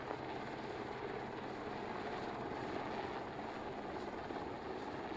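An Avro Vulcan jet bomber at an air show, heard as a constant, distant, broadband roar that holds steady throughout with no other sounds standing out.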